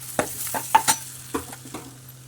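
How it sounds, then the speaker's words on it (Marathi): Cumin seeds and curry leaves hit hot oil in a pan, giving a few sharp bursts of crackling sizzle with scraping stirs in between, close and clear before fading to a quieter fizz. "तेल तापलेलं आहे त्याच्यामध्ये जिरे घालायचे कडीपत्ता घालायचा"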